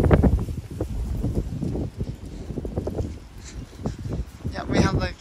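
Strong gusts roar through trees during a windstorm in the San Francisco Bay Area, with a steady, loud blustery rush and rustling. A person talks over the wind.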